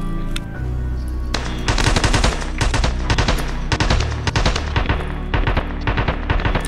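Machine gun fire in a shooter video game at the Kaban location, loud rapid bursts of automatic shots in several volleys with short gaps, no talk over the shooting.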